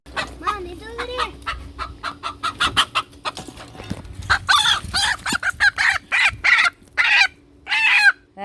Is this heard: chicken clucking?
yes